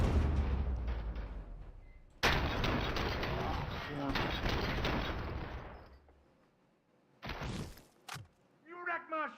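Gunfire in the video game RoboCop: Rogue City, a loud rapid burst of automatic shots lasting a few seconds, followed by metallic clanks and a voice speaking near the end.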